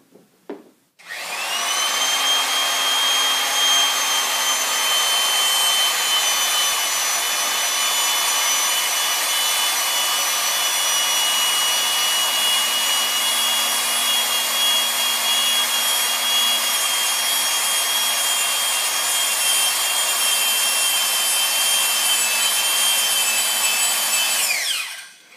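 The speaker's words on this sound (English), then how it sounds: "We're going to use our open palm to apply pressure directly to the die head to get the thread started." A Ridgid 700 hand-held power drive turns a die head to cut threads on a pipe, giving a loud, steady motor whine with grinding cutting noise that runs unbroken for about twenty-four seconds, close up.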